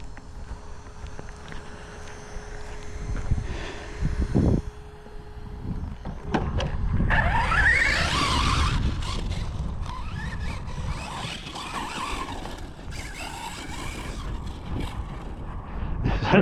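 A Hobao 10TT RC buggy with a 4250kv motor whines and whirs across grass, with high electric-motor buzz surging and fading amid rustling, scuffing ground noise and wind on the microphone, fairly close and fluctuating in loudness.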